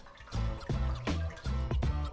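Tap water running and dribbling over boiled eggs as they are peeled, close and fairly quiet, in short uneven bursts with no talk.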